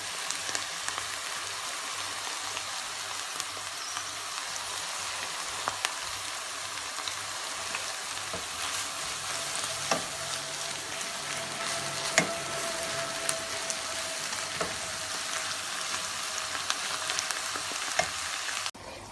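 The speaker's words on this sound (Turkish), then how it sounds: "Kıymamız kavruldu." Minced meat fries in a pan with a constant, close hissing sizzle that runs unbroken for the whole stretch, broken by occasional light clicks and scrapes of stirring.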